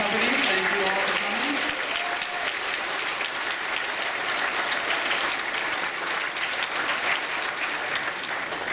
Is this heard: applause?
yes